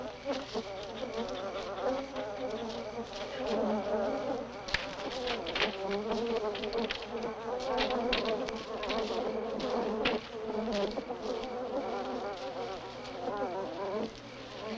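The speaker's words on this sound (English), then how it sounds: "Goddamn bees are going crazy." Agitated bees swarm around hives, a dense, continuous buzzing drone that stays loud and close throughout with no speech.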